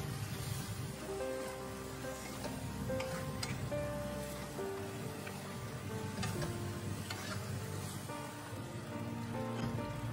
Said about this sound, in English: Stir fry until the eggs are fully cooked.